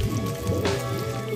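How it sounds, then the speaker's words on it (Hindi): Light rain patters steadily on a surface on a cloudy hilltop in Langur Khola, Nepal, a soft continuous pitter of drops, fairly close and with no talk. "देखिए हल्का हल्का बारिश भी हो रही है"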